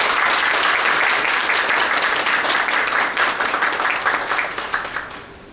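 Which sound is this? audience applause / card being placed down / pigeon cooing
audience applause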